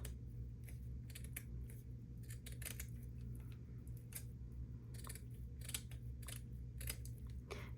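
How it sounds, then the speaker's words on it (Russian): Scissors snip around the outline of glued paper flower petals, a steady series of short crisp cuts close up and fairly quiet, with no talking. "Здесь у нас проволоки нету, поэтому можем спокойно резать ножницами."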